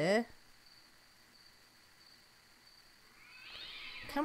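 A cat meows in a video game, a short mewing cry at the start and again at the end, with a quiet steady tone between the two calls.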